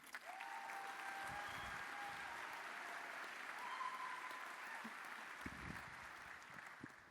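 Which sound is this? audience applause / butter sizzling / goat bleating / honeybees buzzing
audience applause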